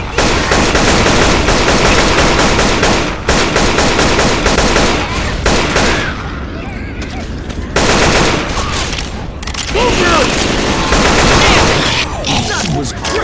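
Left 4 Dead 2 multiplayer firefight: loud, rapid sustained gunfire bursts, nearly continuous automatic shots with short gaps, close and dominant, with speech underneath.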